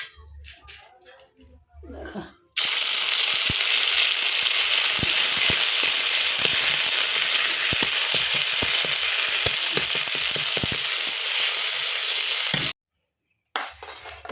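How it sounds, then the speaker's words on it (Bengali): Two dried red chillies fry in oil in a wok, giving a loud, steady sizzle with occasional light clinks that stops abruptly after about ten seconds. "কড়াইতে তেল দিয়ে শুকনো লঙ্কা দুটো ভেজে তুলে রাখছি"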